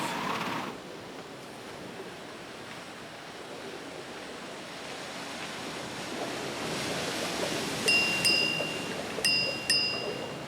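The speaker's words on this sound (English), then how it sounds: "far from any shore they lighted on a ship, battered by wind and waves." Sea waves surge and wash beneath steady wind, a broad continuous roar swelling louder toward the end, with a few faint high chimes or creaks near the close, no speech.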